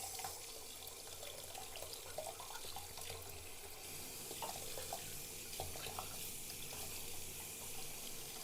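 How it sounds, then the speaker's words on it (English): Tap water runs into a sink to rinse a ResMed P30i CPAP mask, a steady soft hiss and splatter with small irregular drips, faint and without talk. "just use the water to rinse"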